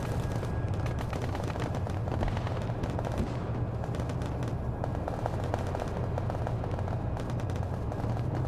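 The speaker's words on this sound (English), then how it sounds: "Here, AT firing down." Anti-tank weapon fire in the military video game Arma 3, set among dense, continuous battlefield rumble with rapid crackling shots layered over a steady low roar.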